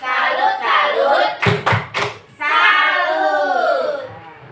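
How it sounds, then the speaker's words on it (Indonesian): A group performs a 'tepuk salut' clap pattern in a classroom-style setting: voices chant in unison, then three firm, evenly spaced claps land close by before the chanting resumes. "Kita beri pujian misalnya kayak tepuk salut."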